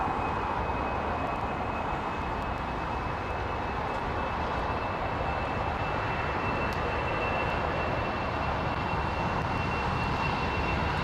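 Airbus A340-600 or A380 climbing away on a late go-around, a steady, loud broadband engine roar with a thin high whine running throughout, sustained without letup and no talk over it.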